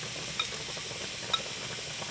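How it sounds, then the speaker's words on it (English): Freshly caught mutton snapper fries in a pan beside rice and zucchini, with a steady close sizzle and two light utensil clinks against the pan. "We also got our rice boiling and our zucchini cooking there."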